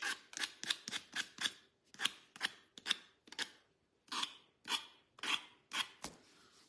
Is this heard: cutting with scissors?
yes